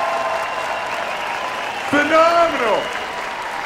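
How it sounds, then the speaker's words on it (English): An audience at a swimming championship, the 2024 YMCA Short Course Nationals in Greensboro, claps in a steady wash of applause while an announcer's voice rises briefly over it. "let's give a huge round of applause to our athletes"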